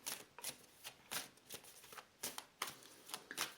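Cards are shuffled in repeated quick riffling bursts, close and fairly quiet, with short pauses between shuffles.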